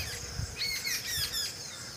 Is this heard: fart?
no